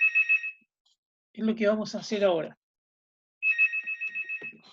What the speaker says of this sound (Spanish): Disculpen, son un celular aquí.